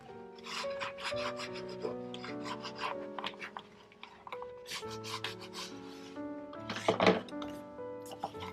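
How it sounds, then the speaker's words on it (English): Paper being burnished for a 10 x 10 baby mini album, heard as close, repeated rubbing and scraping strokes in an uneven rhythm, with no talk. "So I will open it and also burnish the one I did inside."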